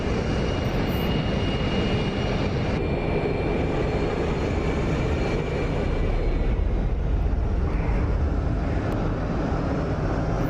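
Steady roar of an F-106 Delta Dart jet engine in the DCS flight simulator, a loud continuous broadband rumble that shifts slightly in pitch as the throttle changes, with no talk.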